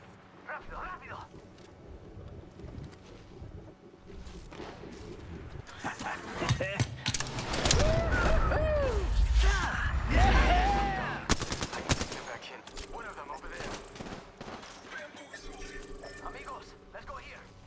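Apex Legends gunfire, a rattling stream of rapid shots that builds into a loud, dense barrage mid-way and then trails off, with a voice talking over parts of it.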